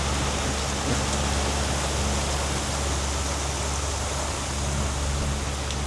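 Heavy rain pours down onto a Lagoon 44 catamaran during a storm at sea, making a dense, constant hiss that stays loud and unbroken all the way through, with a low rumble of wind underneath.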